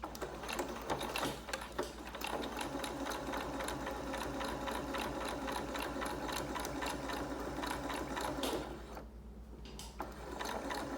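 Close, steady mechanical whir and rapid needle clatter from a sewing machine back stitching a ribbon face mask, running continuously, with a short slowdown near the end before it picks up again.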